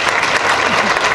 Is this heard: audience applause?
yes